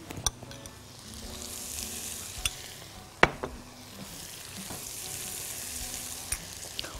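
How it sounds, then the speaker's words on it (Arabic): Zucchini, basil and green onion frying in oil while being stirred, a continuous sizzle broken by sharp clacks of the utensil against the pan at irregular intervals. "وبعدين اقلب"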